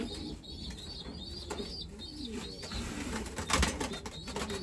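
Pigeons in a breeding loft, adult breeders and young birds together, coo repeatedly in a steady low murmur, with soft chirps and a brief rustle of wings nearby.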